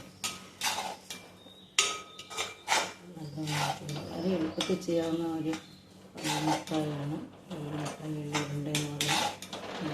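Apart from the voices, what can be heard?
mixing jaggery syrup, ghee and oil with sesame in a pan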